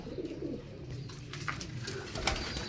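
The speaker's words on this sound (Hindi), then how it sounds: "ये काले मुँह वाला बड़ा कबूतर है" Pigeons cooing in a loft housing breeding pairs and young birds, soft repeated low coos from nearby birds with faint rustling and a few brief chirps, fairly quiet throughout.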